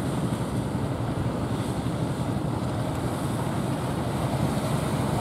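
Small sampan fishing boat out at sea off Plawangan Puger, with steady wind buffeting the microphone and waves washing around the hull, a dense continuous rush throughout without speech.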